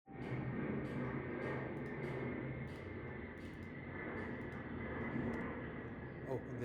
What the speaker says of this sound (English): Oh, there's a plane coming,